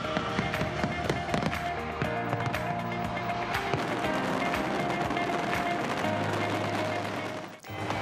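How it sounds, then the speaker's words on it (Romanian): Fireworks burst above a South Korean city during a large display, with dense crackling and popping explosions continuing throughout at a moderate distance as a crowd watches. "Mii de oameni au stat cu ochii țintiți spre cer pentru a urmări un spectacol grandios cu focuri de artificii."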